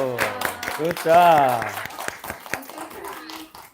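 Children at a Korean church Sunday service clap in scattered, uneven bursts, sharp separate hand claps under an adult's voice and children's chatter, with the talking louder than the claps.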